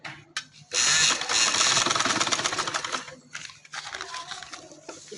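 A sewing machine stitching loops onto a red shalwar runs in a fast, steady whirring burst for a couple of seconds, then slows into lighter intermittent stitching, preceded by a few clicks.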